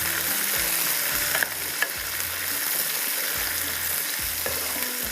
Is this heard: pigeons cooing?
no